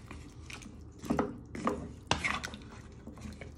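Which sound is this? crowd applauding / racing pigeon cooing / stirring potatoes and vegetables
stirring potatoes and vegetables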